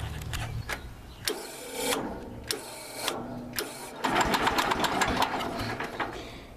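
An old Dayton lawn mower engine with no spark cranking over without firing, a close, loud, uneven mechanical whir and clatter in short bursts that grows into steadier rapid chugging near the end.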